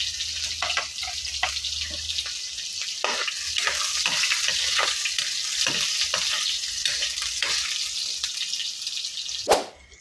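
Garlic and onion sauté in a hot pan for Filipino ginisang ampalaya, giving a steady close sizzle broken by repeated stirring scrapes and a sharp clink near the end.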